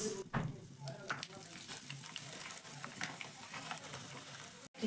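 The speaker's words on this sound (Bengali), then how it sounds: "এইভাবে কিন্তু আমি সব সাবুই ভেজে নেব।" Sago pearls fry in oil with a continuous soft sizzle and frequent stirring scrapes, moderately quiet, with a brief clunk near the end.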